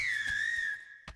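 A single clear whistled note, slightly wavering in pitch, sounds for most of a second before cutting off, followed by a soft thump.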